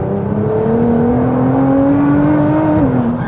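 A converted rear-wheel-drive 1200bhp Nissan GTR pulls hard under acceleration, a loud steady engine drone rising slowly in pitch over a few seconds, heard close from inside with no talk.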